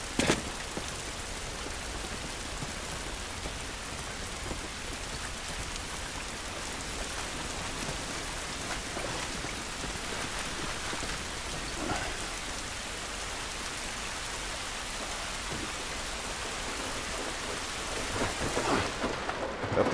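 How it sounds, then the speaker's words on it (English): Steady heavy rain hisses constantly in The Last of Us video game, with rolling thunder rumbling beneath it, the downpour dense and unbroken for the whole stretch without speech. "This rain ain't gonna do us any good."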